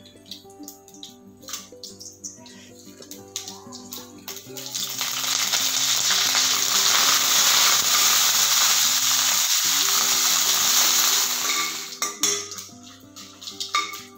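Byadgi red chillies frying in hot oil for a bitter gourd gravy, with light stirring and pan clatter that swell into a loud, steady sizzle for several seconds before settling back to quieter spoon scrapes.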